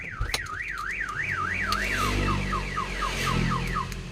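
A Hyundai Accent car alarm wails close by in a steady rising-and-falling siren, sweeping up and down repeatedly, then switching to quicker chirping sweeps, loud and alone with no voices.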